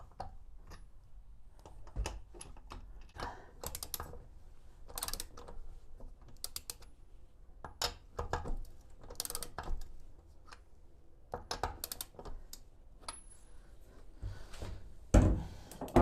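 Wrench tightening lug nuts on a trailer's wall-mounted spare tire: quiet irregular ratcheting clicks and metallic taps in scattered bursts, close by, with a louder knock near the end.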